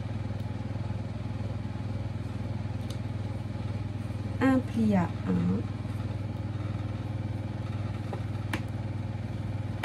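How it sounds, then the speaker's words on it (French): A steady low mechanical hum and whir of a washing machine runs throughout, with a brief spoken phrase and a few faint clicks over it. "vous entendez la machine à laver, je ne peux rien faire pour ça"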